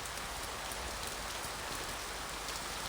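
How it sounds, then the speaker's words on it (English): Rain pounding on a roof, a steady dense hiss of drops filling the space evenly without pause, heard alone with no voices. "The sound of rain pounding on the roof"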